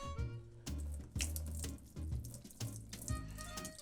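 Water runs from a kitchen tap to fill about a cup for pizza dough, a close splashing stream that changes pitch as the vessel fills, with a few knocks and clinks of handling.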